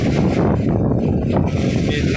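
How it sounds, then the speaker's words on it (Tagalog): Strong sea waves crash at a beach under heavy wind buffeting the microphone, a loud, continuous roar with no break, as someone speaks close by. "Lakas ng alon mga guys."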